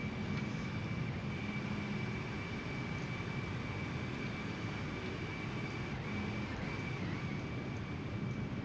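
An airliner in a flight simulator game climbs after takeoff, its engines giving a steady, even roar with a low rumble that holds unchanged throughout, with no talking.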